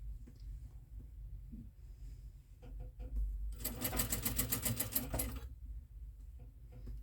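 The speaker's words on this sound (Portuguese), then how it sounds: "Por isso que eu gosto de costurar no risco." A sewing machine stitching fabric, a fast, even burst of needle clatter lasting about two seconds amid quiet background hum and faint handling noises.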